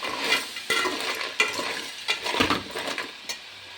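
Oil with turmeric powder fries in a pan, a brisk crackling sizzle broken by several sharp spoon scrapes and knocks against the metal, close and moderately loud with no voices.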